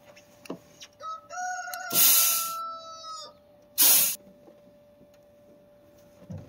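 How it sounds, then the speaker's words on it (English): Compressed air blown into the fuel return line of a 1976 Chevy LUV 4x4, heard as two loud, close hissing blasts about two seconds apart, with a faint whistling tone and small clicks around them. "We're gonna blow air into the return line"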